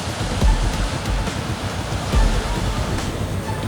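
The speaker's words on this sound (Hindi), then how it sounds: "बोरवेल की खुदाई के दौरान अचानक पानी बाहर निकल आया। पानी का प्रेशर इतना ज्यादा था" Water gushes under high pressure from a borewell during drilling in Jaisalmer, producing a continuous loud broadband roar with occasional deeper surges, heard alone without speech.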